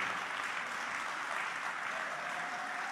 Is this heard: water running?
no